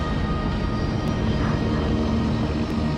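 Seaplane engines throttling up for takeoff on the water at Government Cut, a steady loud aircraft engine drone filling the whole stretch with no speech.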